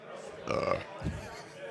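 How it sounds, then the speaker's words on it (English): A single belch after drinking beer, a short mid-clip burst that sits among casual talk nearby. "One belch"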